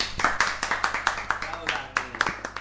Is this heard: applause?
yes